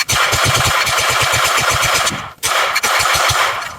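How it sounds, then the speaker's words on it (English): Rapid gunfire from a magazine-fed gun shot at a target, loud close bursts of fast repeated reports, a short pause, then firing resumes. "Let's put another 50 rounds through it and see what happens"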